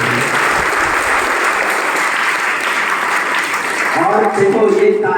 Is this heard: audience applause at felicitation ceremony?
yes